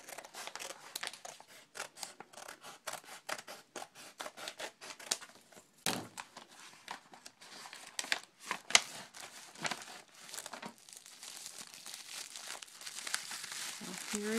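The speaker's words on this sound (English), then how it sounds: "I'm going to go ahead and open up the package" Crinkling and tearing of a paper mail package being opened to reach a trading card inside, a dense run of close, sharp rustles, crumples and snips throughout, with a few louder pops.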